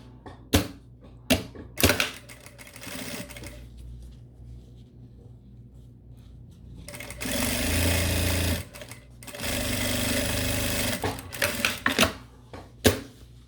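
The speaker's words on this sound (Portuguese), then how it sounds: "E eu vou costurar aqui pelo lado da manta, tá?" A sewing machine stitches along the side of a quilted patchwork pencil case, with short clicking bursts followed by two sustained runs of steady, rapid whirring needle noise.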